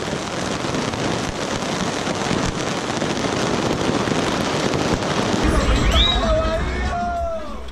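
Loud crackling bursts of firecrackers going off amid a noisy crowd during a firecracker battle between two neighbourhoods in Cuba, with whistling shrieks rising near the end.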